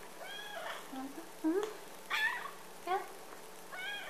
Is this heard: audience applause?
no